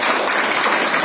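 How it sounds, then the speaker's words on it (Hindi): Audience at a BJP office e-book launch event applauding two former presidents, steady dense clapping filling the short moment without pause. "इसलिए एक बार दोनों के लिए ताली हो जाए।"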